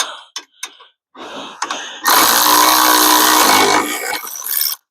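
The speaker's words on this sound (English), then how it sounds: "Now we have the electric ratchet." An electric ratchet whirs at close range while working on wheel bearing parts of a Polaris RZR XP1000, with a few short bursts and then one long, loud buzzing run that tails off.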